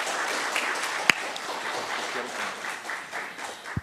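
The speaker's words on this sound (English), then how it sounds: "Can we please give Mike Bonin a round of applause for being here?" An audience at a membership meeting applauds a guest, a steady, fairly quiet patter of many hands with one sharp clap standing out near the middle, and no voices over it.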